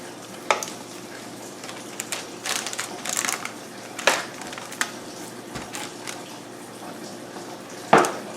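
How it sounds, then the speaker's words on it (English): Water runs steadily from a kitchen tap while a pan is rinsed under it, with scattered clinks and clatters of cookware rising over the constant close hiss. "I'm going to run the water so I can keep putting this under the water"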